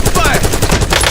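Rapid automatic M4 and Kilo141 gunfire in a Warzone squad match sounds as dense, loud, continuous bursts of overlapping shots with sharp cracks, filling the whole moment.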